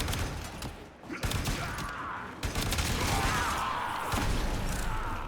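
Gunfire in the Warframe game, a dense, noisy stretch of rapid shots and mechanical clatter that runs loud and continuous, with bursts starting and stopping.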